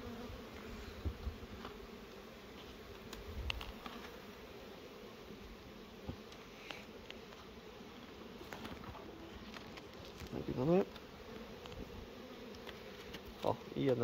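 Honey bees and wasps buzz faintly and steadily around beehive frames at an apiary, with occasional soft knocks and brief louder passes close by.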